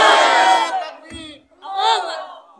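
A crowd at a religious mahfil gathering in Narsingdi roars takbir in two loud massed bursts of chanting voices, the first longer, separated by a short pause with a dull knock between them.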